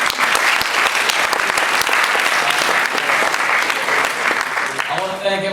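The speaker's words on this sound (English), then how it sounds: "Yeah, round of applause." Loud, dense applause from a lecture audience welcoming Professor Bryan Caplan of George Mason University, steady clapping throughout that begins to thin out at the very end.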